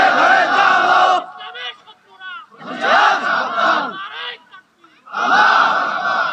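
A crowd at a religious gathering roars the takbir in three loud, long group shouts, each answering a call, with short pauses and scattered voices between them.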